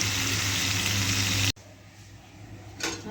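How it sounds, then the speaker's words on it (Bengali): Potato chunks for a meat curry sizzle loudly in hot oil for about a second and a half, then the frying drops to a quieter, steady crackle with a brief burst near the end. "আর এখানে মাংসের আলুটা আমি ভেজে দিচ্ছি একটু।"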